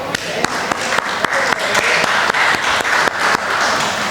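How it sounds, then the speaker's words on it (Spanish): A church congregation claps for the Lord during a Sunday service, a dense, lively burst of applause with sharp individual claps cutting through, running for several seconds. "Denle un aplauso al Señor."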